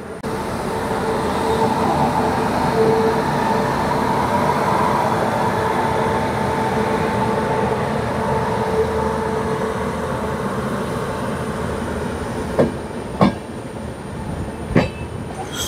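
A train pulling out of Malda Town station: a steady, loud rolling rumble of wheels and carriages throughout, with a few sharp rail clicks near the end and no talking.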